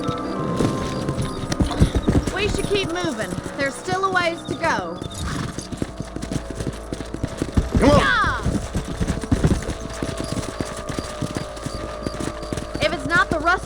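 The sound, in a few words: horses galloping in Red Dead Redemption video game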